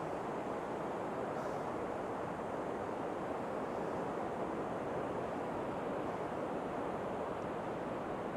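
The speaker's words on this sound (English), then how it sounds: "a lot of tide noise, a lot of lead bouncing" Surf rolls steadily onto the beach at Sutton on Sea in Lincolnshire, heard during a sea fishing session; the broad, continuous wash of waves stays level throughout, mixed with some wind rumble, with no voices.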